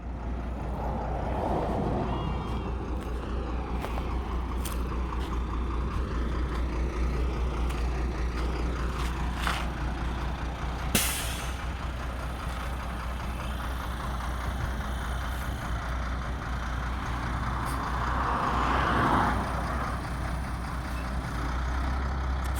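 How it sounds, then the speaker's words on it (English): Heavy tow truck engine idling and rumbling near a stranded RV in rural Mexico, a steady low drone running throughout with a brief sharp clank partway and a few faint voices. "First time Freyja has seen a tow truck."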